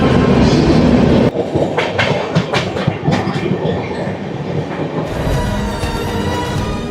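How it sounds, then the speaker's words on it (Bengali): The Purushottam Express from New Delhi to Puri rolls loudly into a station, its wheels clattering in an uneven rhythm before settling into a steady rumble. "ট্রেন কিন্তু ঢুকে গেছে"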